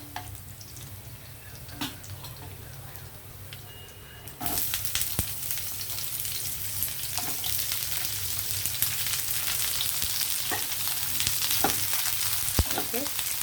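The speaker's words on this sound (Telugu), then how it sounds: "ఉల్లిపాయలు కూడా కొంచెం వేగనిద్దామండి" Onions frying in a pan for a bitter gourd fry, a soft sizzle that swells into a loud, steady crackle partway through, with a few scrapes and clicks over it.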